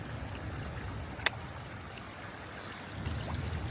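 A small river flows steadily near Ushuaia, Argentina, as a group prepares to cross it. The water makes a continuous broadband rush with one brief sharp splash-like click partway through, and no voices.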